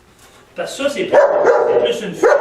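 A German Shepherd barks and yips in short, loud bursts close by, overlapping with someone speaking French.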